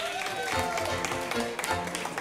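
A room full of people applauds volunteers at a game-show style event, fairly quiet, steady scattered clapping with a few voices under it, sustained throughout.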